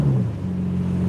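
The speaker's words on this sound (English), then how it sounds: "We'll do some light revs really quick." A Lamborghini Aventador SV engine idles with a deep, steady droning hum, a brief throttle blip at the start settling back into a low, even rumble close by.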